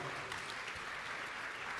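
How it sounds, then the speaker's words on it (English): An audience at the Abu Dhabi Sustainability Week panel session claps for the panel, a short burst of steady, fairly quiet applause sustained evenly for under two seconds. "please could I have a round of applause for my distinguished panel"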